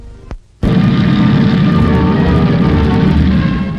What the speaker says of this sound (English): 60 B-29s engaged on a long-range flight training program.